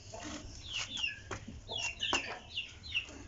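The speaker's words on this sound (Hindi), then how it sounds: "ये हमारी नई मुर्गी" A hen clucks in short, bright, scattered calls, fairly close and moderately loud, with no speech over it.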